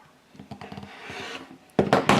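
Rotary cutter or blade trimming the edge of a 5½-inch fabric hourglass-variation quilt block square, giving a few soft scraping, rasping strokes, close and quiet, ending in louder brushing rubs.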